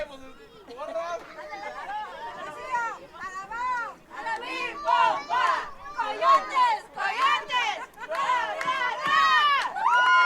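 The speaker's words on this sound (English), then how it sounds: "Fans are having fun. You can hear them on a crowd mic." Football fans at an alumni game in Tornillo, Texas chatter and shout continuously from the stands, a lively crowd babble with rising whoops, picked up close on a crowd mic.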